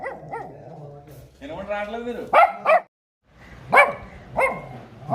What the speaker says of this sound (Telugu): దీంట్లో కుక్క పిల్ల ఒకటి ఉంది చూడండి